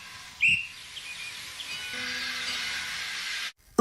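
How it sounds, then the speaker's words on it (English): A railway guard's whistle gives one short shrill blast on a station platform, followed by a long steady hiss of steam from an LB and SCR Billington E2 class tank engine. "Oops, that's the guard's whistle."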